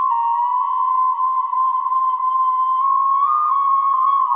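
Breathy flute sample playing a long held note that steps up slightly near the end, clear and close, alone with no voices, taken from a sample pack in an electronic track.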